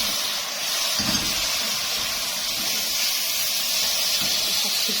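Tomatoes drop into a pan of frying onions for a tuna dish, giving a loud, steady hiss of sizzling that holds evenly throughout, close and unbroken.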